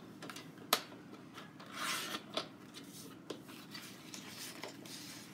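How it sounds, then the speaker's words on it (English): Yellow 4 by 12 inch paper strips stacked and trimmed at 6 inches on a paper trimmer, with scattered soft rasping slides and a few sharp clicks, close and quiet, with no voices. "just grab your yellow strips, 4 by 12s, put them together, and trim at 6 inches"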